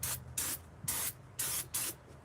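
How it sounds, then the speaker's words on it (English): Aerosol brake parts cleaner sprayed onto a car's brake rotor during a brake swap, heard as five short hissing bursts in a steady rhythm, close by with a low background hum. "I'm gonna hit it with some brake parts cleaner here"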